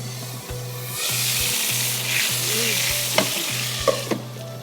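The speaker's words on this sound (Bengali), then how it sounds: "হলুদ বাটাটা দিচ্ছি, আমাদের এটা একটু নেড়ে দিতে হবে।" Turmeric paste sizzles loudly in oil in a pan as it is stirred for beef kalia, a steady hiss with scraping strokes and a repeating low hum underneath.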